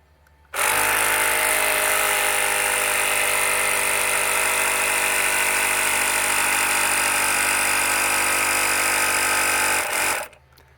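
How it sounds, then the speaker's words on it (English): A pump for a plumbing pressure test starts abruptly and runs loud and steady with a constant mechanical whine and rattle, then cuts off sharply after about ten seconds. "Here's my pressure test set up. So, I start the pump."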